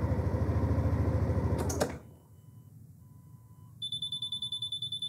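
A Yamaha NMAX 155 scooter engine runs, cuts off abruptly, then a faint tone lingers before the smart key alarm's rapid series of high electronic beeps repeats evenly, close by, signalling the key is out of range.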